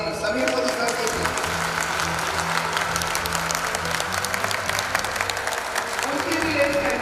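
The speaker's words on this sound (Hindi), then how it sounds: "एक जोरदार तालियां चाहूंगा समीर मोदी सर के लिए" Audience applause at a Modicare motivational event in honor of Sameer Modi, a dense wash of clapping from a crowd that continues for several seconds, with faint talk and background tones mixed in.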